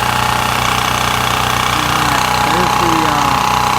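A propane-fed generator engine runs at a steady idle, a continuous loud drone with faint rattling, no clear start captured.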